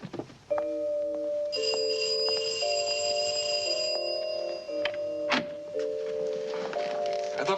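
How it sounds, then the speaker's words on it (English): A two-tone electronic doorbell rings repeatedly in a quiet interior, its clear chiming tones stepping up and down for several seconds, loud and close with a few soft knocks and thumps underneath. "I thought for a minute your bell didn't work."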